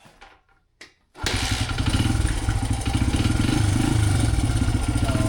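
A Honda dirt bike engine catches after a couple of brief attempts, then runs loud and close at a steady, rapid idle with mechanical clatter.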